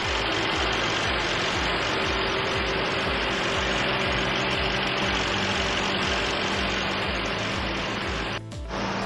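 A 2017 Mercedes-Benz G550 engine idles steadily and close up, a continuous low rumble with an even pulsing beat throughout, briefly dipping near the end.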